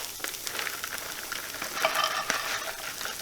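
Ground beef frying in a pan over medium-low heat, a steady close sizzle with small crackles and pops, alone and continuous.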